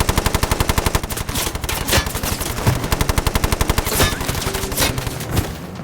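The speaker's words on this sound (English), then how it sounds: "He grabs the Bren gun." A Bren light machine gun fires long rapid bursts in a war documentary scene, the close, loud rounds rattling steadily with brief pauses between strings of fire.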